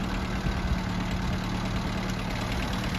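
A Hinomoto NZ210 four-wheel-drive 21 hp tractor with a rotary tiller attached runs steadily and close, a continuous engine drone with a slight knocking pulse.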